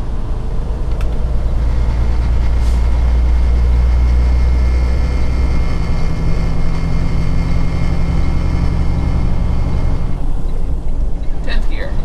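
A truck's engine drones loud and low in ninth gear on an interstate highway, a steady heavy rumble with road noise filling the whole stretch, and a voice speaks over it.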